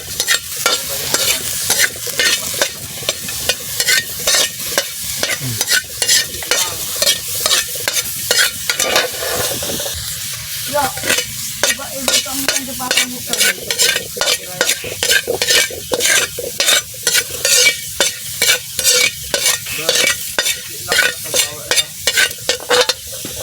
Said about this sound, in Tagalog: Pero ngayon wala tayong mantika, kaya sa asin lang natin niluto guys.